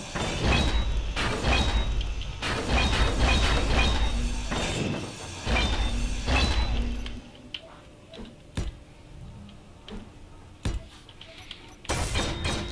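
Grinder cutting apart a block in the game Space Engineers, a run of harsh, buzzing grinding bursts through the first seven seconds, then sharp scattered clicks and thuds, with a short grinding burst returning at the end.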